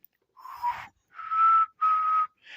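A person whistles in short tonal bursts, four blasts of a steady pitched note, imitating a train whistle, with brief silences between.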